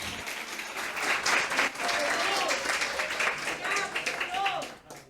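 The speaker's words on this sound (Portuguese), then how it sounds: "Vamos aplaudir ao Senhor aqui esta noite." A church congregation claps in praise during a Christmas service, a dense, sustained wash of applause with a few voices calling out over it before the clapping fades away at the end.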